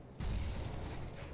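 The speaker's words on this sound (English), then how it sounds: "Throwing flashbang." A flashbang grenade in the video game CS:GO, heard as a sudden loud burst that sets off a dense, sustained roar lasting just over a second, with no talk.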